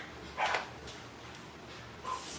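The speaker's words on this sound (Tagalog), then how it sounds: "Galit na yung dogs." Dogs bark angrily some way off, two short faint bursts over a quiet room hum.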